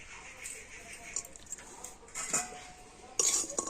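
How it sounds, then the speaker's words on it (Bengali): A spoon scraping and clinking in a pan while date-palm jaggery is stirred and melted, light sporadic metallic taps and scrapes at close range with a couple of sharper clinks near the end. "আর এবার আমি এইভাবে একটু নাড়াচাড়া করে নেব।"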